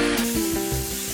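A sander works resin down on a surfboard, a continuous hissing, rubbing drone with a steady motor hum, close and loud for just over a second.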